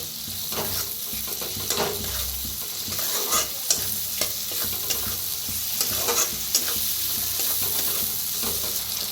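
Tomatoes roasting in oil in a pan, a steady close sizzle and fry with soft stirring scrapes and light clinks throughout, no voices.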